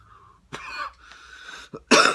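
Two or three harsh coughs from someone with a cold, close and loud, separated by short pauses, the last burst the strongest.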